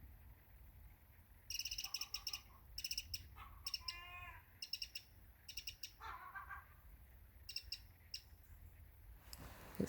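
Bird song rings out in bright repeated chirps and trills, with pauses between phrases, against a quiet outdoor background; no one speaks.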